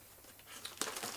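Plastic bag holding a speaker warranty and manual crinkles softly as it is handled, with a couple of brief sharper rustles near the end, quiet and close.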